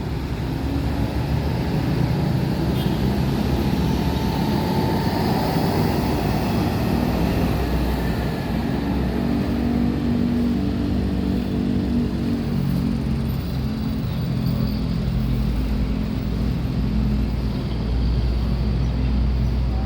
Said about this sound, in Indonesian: MPM V35 baru datang dari Padang, agak telat masuk.